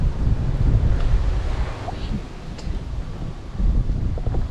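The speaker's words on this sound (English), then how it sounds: "Wind." Wind gusting outdoors in a southern forest near Albany, a steady rushing roar buffeting the microphone with no speech.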